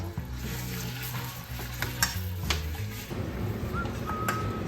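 Ground beef sizzles in a hot pan over medium heat, a steady close crackle broken by scraping and clinking as it is stirred, with no voices.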